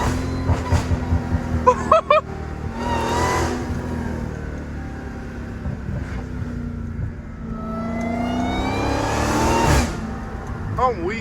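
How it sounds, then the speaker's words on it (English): A loud Dodge Hellcat engine revs and rumbles in repeated surges, with voices talking over it throughout. "This car is so loud, bro."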